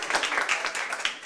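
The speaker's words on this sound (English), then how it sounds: "Let's give Karen a round of applause" An audience at a home kitchen gathering applauds the host, a dense burst of hand clapping that stays steady and close for a little over a second with no talk over it.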